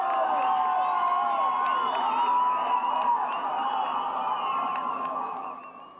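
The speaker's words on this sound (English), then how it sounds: "In some places, the crowd surged into the path of the motorcade, almost halting it." A large crowd lines the motorcade route for the homecoming of the freed hostages in January 1981, cheering and shouting in a continuous distant roar that fades toward the end.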